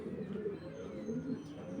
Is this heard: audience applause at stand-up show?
no